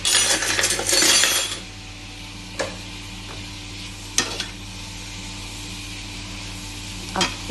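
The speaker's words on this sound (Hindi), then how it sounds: "अब इसे धीरे धीरे करके हम सौते कर देंगे।" Capsicum and onion sautéing in olive oil, a soft sizzle with a louder burst of stirring at the start, then quiet frying broken by a few sharp clicks of a utensil against the pan.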